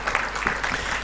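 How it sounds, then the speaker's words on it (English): Conference attendees in Rwanda clap for a speaker coming on stage, a brief burst of full, continuous applause from a crowd, steady throughout with no voices. "Let's clap our hands as we welcome Dorothy upstage."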